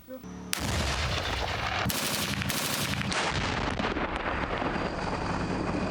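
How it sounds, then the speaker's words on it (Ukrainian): Heavy automatic gunfire from a tank's PKT machine gun at a firing range rattles in a long continuous burst, loud and close, with wind buffeting the microphone. "Проводили заняття зі стрільби, а саме стрільба з гармати і стрільба з ПКТ."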